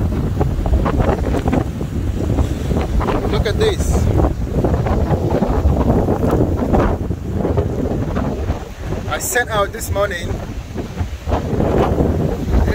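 Heavy wind buffets the microphone nonstop with loud roaring rumble while someone talks over it, on the coast at Animal Flower Cave, Barbados.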